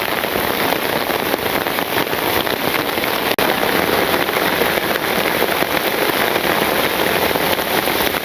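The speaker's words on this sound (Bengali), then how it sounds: "তো বৃষ্টি নামবে এরকম কে জানে।" Steady, dense rain falling in a village, a constant loud hiss of drops on surfaces with one brief sharp knock partway through.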